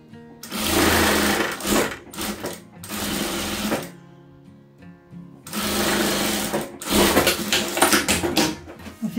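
A sewing machine stitches fabric scraps together for a patchwork rug in loud, close bursts of rapid mechanical clatter, starting with a brief reverse stitch, separated by short pauses and light handling sounds.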